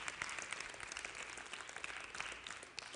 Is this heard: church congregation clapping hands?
yes